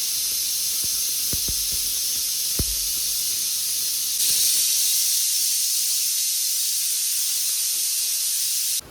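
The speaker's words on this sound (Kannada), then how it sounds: "ಈಗ ಕುಕ್ಕರ್ ಬಿಟ್ಟು 3 ವಿಷಲ್ನ ಓಡಿಸೋಣ." A pressure cooker steaming over sambar gives off a loud, steady hiss of escaping steam with a few faint knocks early on. The hiss runs unbroken for about nine seconds, then cuts off abruptly.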